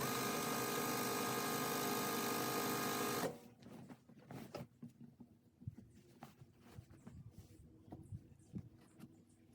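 A home sewing machine stitches curtain fabric in a steady, fast whirring hum for about three seconds, then stops abruptly, leaving quiet fabric rustling and small handling taps.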